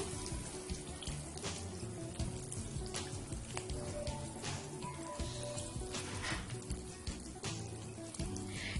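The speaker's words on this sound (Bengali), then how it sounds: "এটা আমার কম আঁচে ভাজতে হবে কারণ লাউ পাতাটা কাঁচা রয়ে যাবে" Hilsa fish koftas wrapped in bottle gourd leaves frying in oil over low heat, a steady close sizzle with small pops and crackles running continuously, without talk.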